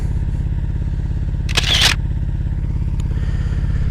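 A Yamaha VMAX motorcycle idles loud and close with a steady low throb, while a single short burst of a camera shutter clicks over it partway through.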